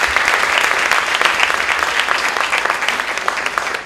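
A crowd at a poetry event in Jamaica breaks into loud, steady applause for a community project, dense clapping sustained throughout with no voices over it.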